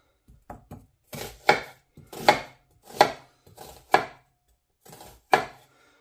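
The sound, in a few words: finely chopping onions with a knife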